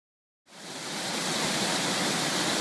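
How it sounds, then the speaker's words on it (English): Water of the Jordan River headwaters gushes out from beneath rock at Caesarea Philippi, a steady, loud, broadband rushing that starts abruptly and holds constant with no voices over it. "This is the headwaters of the Jordan River that flow out from underneath this rock at Caesarea Philippi"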